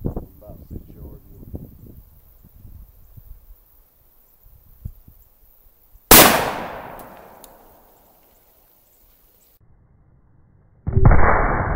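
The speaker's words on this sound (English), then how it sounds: "Underwood 125 grain 357 Sig through 4 layers of denim and 2 sets of ribs from about 6 yards." A 357 SIG pistol firing Underwood 125 grain hollow points into layered denim and ribs outdoors at about six yards: one loud, sharp double shot with a long fading echo, then another blast later, after quieter handling noises.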